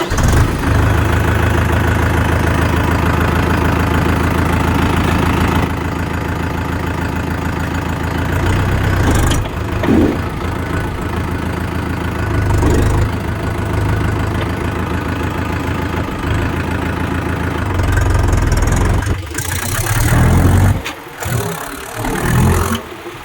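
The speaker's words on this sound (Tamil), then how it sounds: "வண்டி ஸ்டார்ட் பண்ணுற பாருங்கள்." A Mahindra Yuvo 585 50 hp tractor engine starts and settles into a loud, steady diesel idle close by. Its rumble runs through the whole clip, with a few changes in revving and some knocking clatter near the end.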